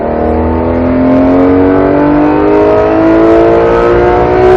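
A Porsche GT3 RS engine revs steadily, its pitch climbing smoothly through an upshift, loud and close with no talking.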